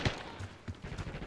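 Rapid AK rifle gunfire in Call of Duty: Black Ops 6 multiplayer, a string of close, punchy shots in an uneven burst rhythm with no voices over it.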